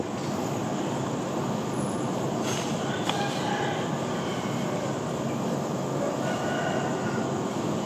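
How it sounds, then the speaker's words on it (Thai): A Royal Blossom passenger train of ten cars and two electric power cars arrives on the Bangkok to U-Tapao run. It makes a loud, continuous rumble with faint wheel squeals heard over it, and no voices. "ขบวนรถน่าจะมาแล้วครับ"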